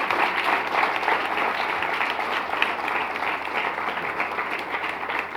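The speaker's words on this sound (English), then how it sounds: "let's give her another round of applause." Audience applauding a speaker at an event, sustained dense clapping at a steady level throughout.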